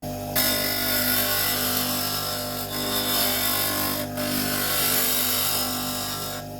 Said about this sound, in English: we need to go over to the grinding wheel first of all and get the correct grind actually on the chisel